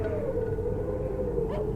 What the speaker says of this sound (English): with all the dogs barking like crazy